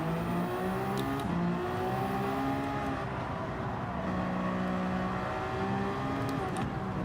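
A Toyota race car engine in Gran Turismo 7 drones and climbs through gears at Lago Maggiore during an endurance race, loud and continuous with no voices.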